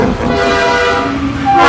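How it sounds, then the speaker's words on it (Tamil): A loud, sustained horn from the Thomas.exe train in a video game sounds as one continuous blaring tone with steady layered pitches. It holds close and unbroken for nearly two seconds, with a rumbling low end beneath. "இந்த ஹார்ன் சத்தம் நம்மள பைத்தியமாக்கிடும்."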